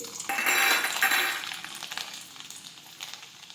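Garlic dropped into hot oil in a pan for urad dal, a loud sizzle bursting up at once and then easing into a softer crackle with light clinks.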